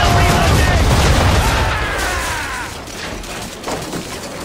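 Ship cannons firing a volley in Assassin's Creed 3: a heavy, rumbling broadside blast that rolls and decays over several seconds, followed by a smaller thud near the end.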